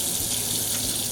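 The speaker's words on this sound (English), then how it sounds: "So we're going to start off with our soap and water." Hands are washed with soap under a running tap, a steady, fairly loud rush of water splashing into a sink that continues unbroken throughout, with no voices.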